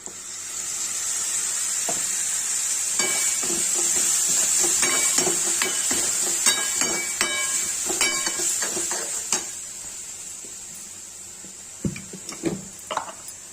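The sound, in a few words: ground tomato frying in pan for palak paneer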